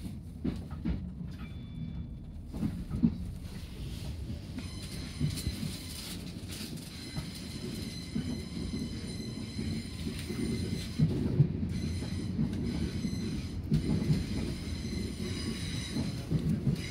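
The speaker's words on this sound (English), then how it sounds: "Train to Portsmouth overtakes us." A train to Portsmouth rumbles past close by, overtaking the train the listener rides, a steady low roar with metallic squeals and rattling wheels rising and fading over several seconds.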